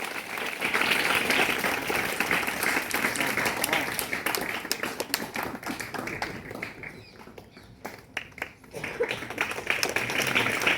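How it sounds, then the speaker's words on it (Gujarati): A crowd of villagers and schoolchildren gives loud, dense, continuous clapping at a school farewell for teachers. The applause runs throughout, dips slightly in the middle and swells again, with voices faintly beneath. "આપણે જોરદાર તાળીઓના ગણગણાટથી"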